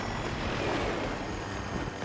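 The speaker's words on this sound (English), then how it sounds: "This chopper's flying low." A low-flying helicopter in the Battlefield 6 game roars as a steady, loud, broadband rotor and engine wash with no talk over it.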